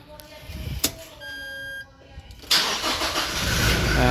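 Toyota Innova engine cranking and catching during a power steering fluid flush, preceded by dashboard chimes and a brief starter whir, then settling into a steady, fairly loud idle up close.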